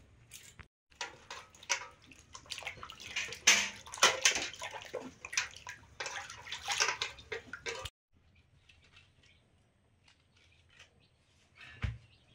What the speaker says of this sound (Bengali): শাপলাগুলোর আঁশ ছাড়িয়ে ধুয়ে নিচ্ছি, ধুয়েই তারপর কেটে নেবো।